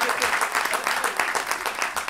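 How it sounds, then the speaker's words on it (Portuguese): Audience at a comedy roast clapping for a comedian, a dense, even burst of applause filling the short stretch. "E a malta agora bate palmas ao Hugo Soares"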